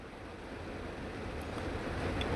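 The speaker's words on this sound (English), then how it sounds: "See, I put the hot water." Hot water pours steadily into the drain inside a refrigerator that is blocked with ice, giving a continuous close rushing splash that builds slightly louder over a couple of seconds.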